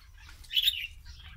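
Pigeons flapping their wings in a loft, a brief soft flutter swelling and fading, with a faint low hum underneath.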